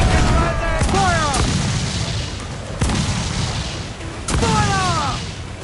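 Ship cannons boom in a naval battle in Assassin's Creed 4 Black Flag, with several heavy blasts spread out among shouting crew voices and a constant roar of wind and sea.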